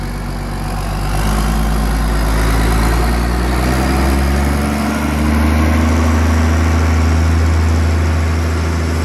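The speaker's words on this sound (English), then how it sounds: "Taking the exhaust off to see what it sounds like with a straight pipe." A Case 1455 tractor idles loudly up close with its exhaust removed to run a straight pipe, a deep steady rumbling throb with a slight swell in revs midway, no voices.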